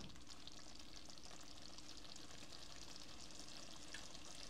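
Rui fish head curry frying and simmering in a pan, a steady close sizzle with soft stirring scrapes running evenly throughout at low volume.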